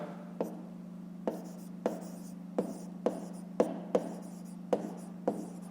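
Pen strokes on paper while a math solution for a fifth-grade exercise is written out by hand, a series of about nine short, sharp scratching taps spaced under a second apart over a faint steady hum.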